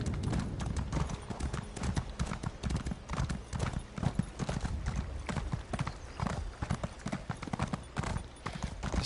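Horse hooves clip-clop in an Elder Scrolls video game, a steady, close rhythmic trot of hoofbeats that continues throughout with a faint whinny.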